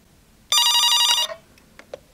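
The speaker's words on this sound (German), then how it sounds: "Jetzt geht der Telefonterror los hier." A telephone bell rings loudly in one sustained burst of under a second, then a few faint clicks follow in an otherwise quiet room.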